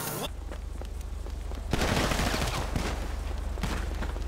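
Rapid automatic gunfire in GTA V Online, a steady stream of close, loud shots continuing throughout with a heavier burst midway, with faint voices in the background.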